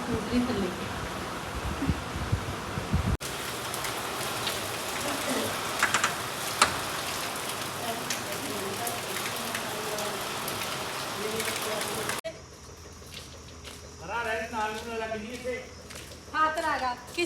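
Rain patters steadily on surfaces around a village home in Punjab, a soft, even hiss that continues through the scene while voices join in toward the end.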